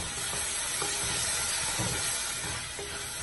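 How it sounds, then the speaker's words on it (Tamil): Ingredients for kushka rice, with fresh mint just added, are stirred in a sizzling pot: a thick, continuous hiss and crackle with soft scraping strokes, close up and unbroken. "நல்லா கலந்து விட்டுங்க"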